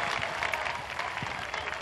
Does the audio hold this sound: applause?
yes